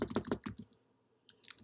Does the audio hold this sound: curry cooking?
no